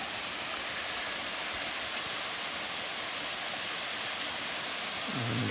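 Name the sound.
waterfall at Nara Inlet, Whitsundays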